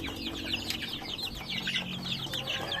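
Young Rhode Island Red chicks peep continuously in rapid, high, overlapping chirps, fairly close, with faint background rustling and low hum.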